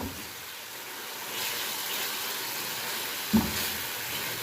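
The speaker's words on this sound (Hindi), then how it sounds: "इधर प्याज हो रहा है फ्राई।" Onions frying in a pan give a steady soft sizzle that continues throughout, with one brief clink near the end and no talking.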